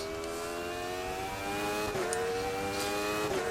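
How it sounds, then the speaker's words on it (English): Race car engine revving hard at Donington Park in the RaceRoom racing game, a steady high-pitched whine climbing through the revs with brief gear-change dips, loud and close with no talking. "Let it rev out, don't short shift."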